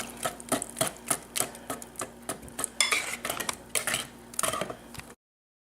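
Melted butter being mixed into a coconut pie filling, a rapid series of close clinking and tapping strokes of a utensil against a bowl, steady and uninterrupted, with no voices.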